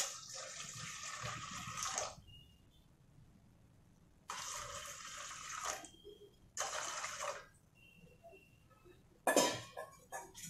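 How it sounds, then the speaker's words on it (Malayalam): Half a litre of water is poured into a cooking pot in several separate bursts of splashing, each lasting one to two seconds, with quiet pauses between them. The sound is close and fairly soft. "അര ലിറ്റർ വെള്ളം ഒഴിച്ചെടുക്കുക."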